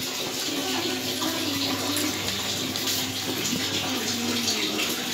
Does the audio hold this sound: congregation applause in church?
no